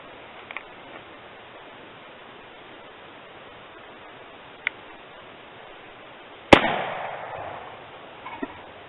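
Single sharp rifle shot from a Remington Baby Rolling Block firing a heavy bullet, loud and abrupt with a short echoing decay, preceded by a few faint clicks and quiet outdoor background.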